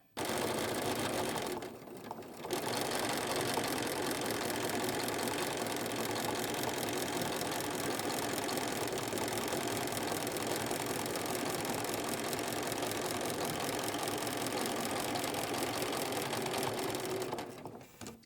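A sewing machine stitches through a quilt in a fast, steady, close mechanical chatter that runs almost the whole time, with a short pause near the start and a stop at the end.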